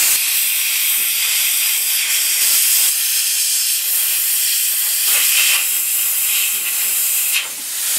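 Plastic welder hissing steadily while repairing the round headlight grille of an Isuzu Trooper, a continuous close airy hiss with a few brief louder bursts and no talking.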